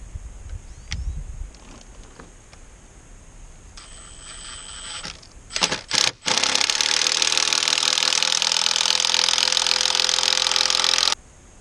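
A power drill drives long screws through three stacked boards for a post in a blacksmith shop build, a loud, steady whir holding for about five seconds after a few short bursts and quieter tapping.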